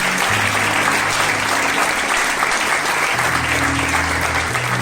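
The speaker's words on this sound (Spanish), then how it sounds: "Vamos a darle un fuerte aplauso al Señor." A church congregation gives a loud, sustained round of applause, a dense steady clapping with a low musical tone beneath it and no voices on top.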